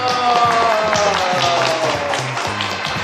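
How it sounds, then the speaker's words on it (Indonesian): An audience at a church podcast event claps for a guest speaker, steady applause heard briefly beneath a voice talking. "Tepuk tangan"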